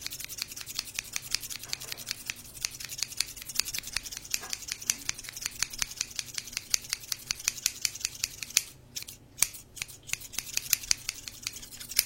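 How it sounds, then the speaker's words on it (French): Rapid, repeated snipping of scissors up close, crisp metallic clicks in a quick steady rhythm with a few brief pauses. "la paire de ciseaux blanches, elle fait ce bruit là."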